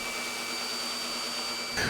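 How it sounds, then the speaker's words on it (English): A leaf blower roars in a steady, close, high-pitched whine for about two seconds, with a faint shift in tone at the very end. "If the leaves are dry, you can probably blow them out with a leaf blower"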